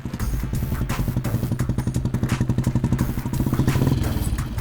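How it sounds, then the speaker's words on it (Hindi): Bullet motorcycle ridden at a steady pace, its engine giving a continuous, rapid thumping putter with rattling clatter, loud and close throughout, no talk. "आप बुलेट बहुत अच्छी चलाती हैं।"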